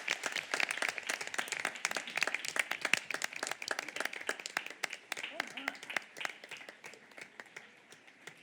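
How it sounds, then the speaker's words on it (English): Applause in a board meeting room as students enter, a small group clapping with distinct individual claps, moderately close and tapering off toward the end. "maybe we should give them a round of applause as they enter the room"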